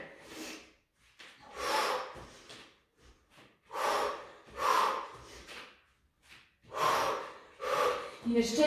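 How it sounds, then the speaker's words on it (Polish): Heavy rhythmic breathing comes from a woman holding a plank during an abdominal and glute workout. Loud, forceful exhales and inhales repeat in bursts about a second apart, with near-silent pauses between. "Oddychamy. Wdech i wydech."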